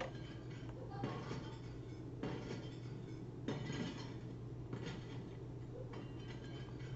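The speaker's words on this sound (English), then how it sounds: "It sounds like someone with glass dishes throwing them and shattering them." Glass dishes clink and shatter in the video game Disassembly 3D. Crashes of breaking glass repeat at a steady, roughly one-second pace over a constant low hum and hiss, moderately loud and unaccompanied by speech.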